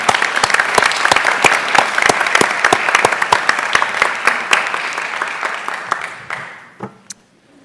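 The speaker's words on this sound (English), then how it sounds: "Let's give those kids another round of applause," Loud, sustained applause from a crowd at a school board meeting, dense clapping that fades out over the final second and a half, leaving a few scattered claps.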